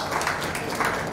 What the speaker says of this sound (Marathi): रिद्धीसाठी जोरदार टाळ्या.